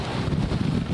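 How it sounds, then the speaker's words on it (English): Strong Hurricane Laura gusts roar steadily, a loud, dense wind rush buffeting the microphone with no pause. "the wind picks up every little tiny bit of dirt and rock, and it sends it flying into your face"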